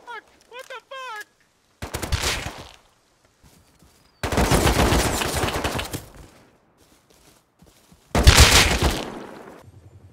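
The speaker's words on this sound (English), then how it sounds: "They like start shooting at us." Gunfire in the survival game Rust comes in three loud, rapid automatic bursts separated by pauses, each a dense rattle of shots, preceded by a few brief electronic chirps.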